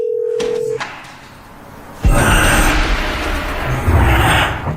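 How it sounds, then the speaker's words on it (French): A telephone sounds with a steady tone for under a second at the start, followed by a loud, noisy stretch of rustling and bustle. "Jeff, tu entends le téléphone"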